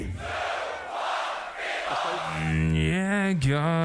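Crowd at a Grand Beatbox Battle showdown, a loud mass of shouting and cheering voices that gives way to sustained chanting and vocal tones building toward the end.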